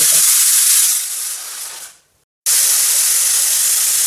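A pressure cooker cooking chana dal vents steam in a loud, close, continuous hiss that fades out, goes silent for a moment, then bursts back at full strength.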